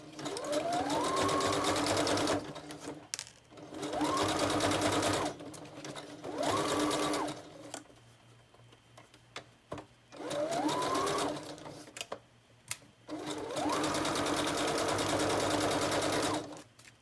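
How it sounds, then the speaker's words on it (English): Sewing machine stitching through a stack of scrappy paper strips, running in several long, steady bursts of rapid mechanical chatter with brief pauses and light handling noises between them. "I'm gonna sew through this whole stack."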